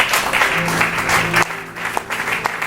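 A church congregation applauding during a service, with sustained, fairly loud clapping over a low tonal hum that fades slightly toward the end.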